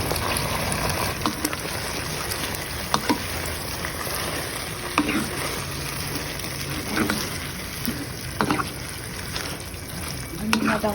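Fresh pechay goes into a hot pan with sardines and sizzles in a steady frying hiss. Stirring scrapes and clinks break through it now and then.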